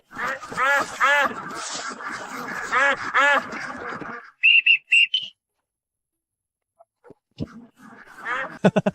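Several short, high whistle blasts ring out after a stretch of quacking ducks, followed by a quiet pause and more scattered sounds.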